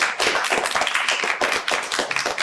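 Applause fills a hall at the close of a high school debate competition at a foreign language high school, with many hands clapping loudly and steadily for over two seconds.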